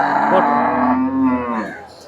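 Buffalo at a cattle market giving one long, loud, close moo that holds steady and then fades out.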